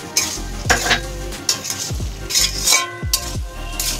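Fried cashews and raisins are tipped into a pot of pulao and stirred, giving several sharp scraping clatters of a spoon against the pan over a steady close sizzle.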